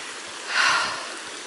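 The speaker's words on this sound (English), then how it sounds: "Two rivers meeting, look." Stream water rushing where two rivers meet at a ford in a combe near Holford in the Quantock Hills, a steady broadband wash that swells briefly midway, with no talking.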